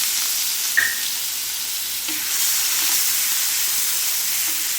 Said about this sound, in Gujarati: હવે મેં જે કાંદા લીધેલા હતા એને એકદમ બારીક ચોપરમાં કરી લીધા છે। એ આપણે નાખીશું તેલમાં।